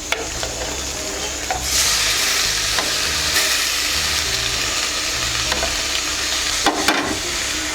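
Homemade wheat noodles are stirred in a hot frying pan, with a steady sizzle and hiss broken by repeated scraping and clattering strokes of a utensil, close and moderately loud, no talking.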